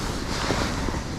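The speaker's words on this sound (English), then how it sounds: "these wind gusts are absolutely crazy at times" Wind gusts buffet the microphone at a lake during pole fishing, a steady broad rushing roar with no clear breaks, close and fairly loud, with no talking.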